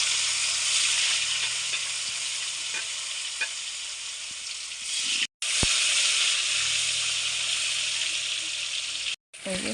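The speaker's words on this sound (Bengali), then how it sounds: "নিয়ে এখন পনিরের টুকরোগুলোকে ভেজে নেব ভালো করে।" Paneer pieces fry steadily in hot oil and ghee with turmeric, giving a loud, continuous close-up sizzle and hiss with a few faint stirring knocks. The sound cuts out briefly twice.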